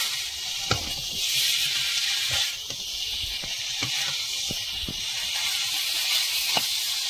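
Quail meat frying in hot oil as it is browned down for a spiced curry on a cold winter day, a loud, steady sizzle and hiss with occasional faint pops and the clink of a stirring utensil.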